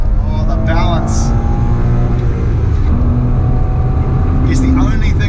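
A Porsche Boxster 987 sports car engine hums and surges while driving through turns, a loud, steady drone heard from inside the car. Someone talks over it.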